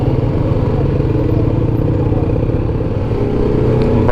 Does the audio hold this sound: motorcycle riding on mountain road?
yes